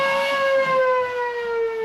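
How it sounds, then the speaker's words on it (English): A civil defense siren wails continuously during fighting near the barracks at Vukovar, warning of sniper and mortar fire; a steady, loud tone with rich harmonics that slowly falls in pitch, heard alone. "this siren warned of incoming sniper and mortar fire"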